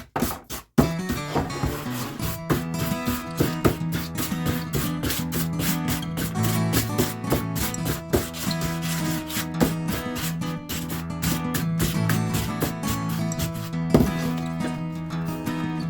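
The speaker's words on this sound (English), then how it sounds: "I'm gonna use a block as well as some hand sandpaper." Steady, rhythmic scraping of sandpaper, by hand and on a block, rubbed back and forth on painted wood, close and continuous for a long stretch with brief pauses.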